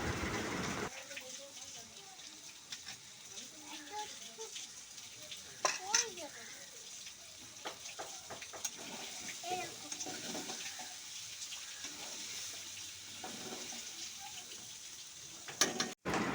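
Cooked loach fish with chopped coriander stirred in a pan, soft scraping and faint sizzling at low volume with occasional clinks, plus a sharp knock near the end.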